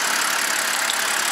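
A 2010 BMW F10 528i idles in a steady, even hum with a broad hiss on top, close and unbroken for the whole short stretch, with no voices over it.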